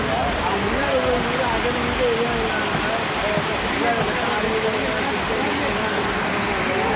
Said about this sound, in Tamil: ராட்சத குழாயில் திடீரென உடைப்பு ஏற்பட்ட நிலையில் தரைத்தளத்தில் பதிக்கப்பட்டிருந்த டைல்ஸ்களையும் பீத்துக் கொண்டு தண்ணீர் அருவி போல ஆர்ப்பரித்து ஓடியது